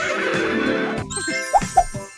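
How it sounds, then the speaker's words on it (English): A horse whinnies in a shaky, wavering call, loud and close, ending in a couple of short higher squeals. "H for horse."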